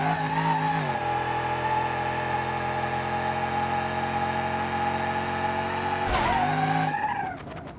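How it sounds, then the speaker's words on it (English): A Moonhawk drag car in BeamNG.drive straining with a screeching tire at full throttle, a loud sustained engine-and-squeal howl that holds steady, lurches with a rough burst near the end, and then drops away. "We blew the tire off."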